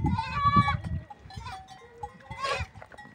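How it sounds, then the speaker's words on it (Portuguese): Goats bleat in short, close calls on a farm while a large buck kid suckles among the herd, with a cowbell clinking faintly and soft rustling between the cries. "Ó, o tamanho do bode mamando, bode de ponta."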